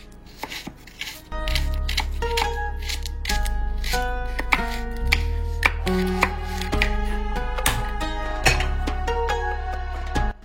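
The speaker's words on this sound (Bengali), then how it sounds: "আমি বিনস, গাজর, পেঁয়াজ এগুলো একটু চপিংও করে নিচ্ছি" A knife chops beans, carrots and onions on a board in quick, crisp, rhythmic strikes that continue throughout, close and distinct over soft background music.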